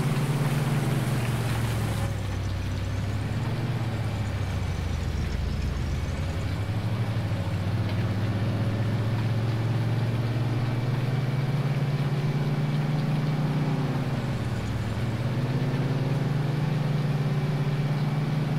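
A 9300 semi truck's engine drones steadily while driving, a loud low rumble that rises and falls in pitch with gear changes and shifts of speed, sustained throughout with no voices.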